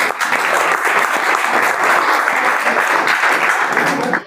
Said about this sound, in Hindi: आइए, एक बार हरिओम के लिए जोरदार तालियां।